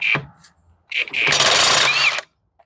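A power tool whirs during tire removal on a 2015 Scion xB: a short high-pitched burst, a pause, then a longer sustained buzzing run that cuts off abruptly, close and fairly loud.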